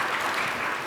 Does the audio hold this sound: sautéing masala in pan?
no